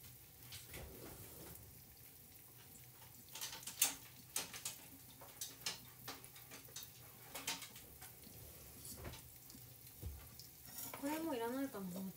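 A large rolled chashu pork sizzles faintly in a frying pan in a home kitchen, with scattered utensil clicks and taps over the soft hiss and a short bit of voice near the end.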